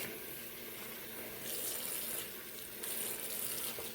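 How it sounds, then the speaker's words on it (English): A tap runs steadily into a sink as it is rinsed with cold water during washing of horse hair, a continuous close splashing hiss that swells louder twice partway through, with no talk. "So rinsing in cold water one more time."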